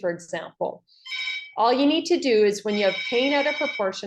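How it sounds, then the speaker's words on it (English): A telephone rings in the background while a person lectures on soft tissue trauma, the bright trilling ring sounding under and between the steady talk. "my apologies for the phone in the background"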